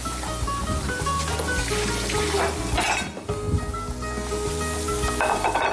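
Swordfish in tomato sauce sizzling steadily in a pan, a dense continuous frying hiss with occasional clinks of utensils against the pan.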